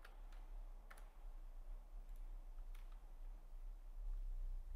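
Light, quick keystrokes on a computer keyboard while writing Python Pong code, scattered sparse clicks heard faintly over a low steady background hum, no voices.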